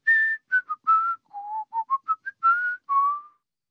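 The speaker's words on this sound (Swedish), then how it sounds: "Sen kan du vissla en sång." A whistled melody of short and held notes rising and falling in a simple tune, clear and close with no talking.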